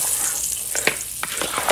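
Curry goat sauce sizzles loudly in a pot turned up to high heat, a continuous bubbling fry broken by several sharp stirring knocks and scrapes.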